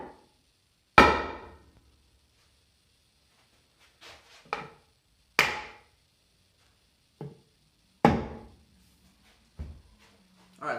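Hammer whacking a Super Refined MDF panel: four sharp, solid strikes a couple of seconds apart, each decaying quickly, with lighter knocks and handling noises between them and no talking.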